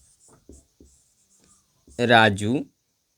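Marker squeaking on a board during a Hindi-language English grammar lesson, with a few short taps early on, then one sustained squeaky stroke lasting under a second.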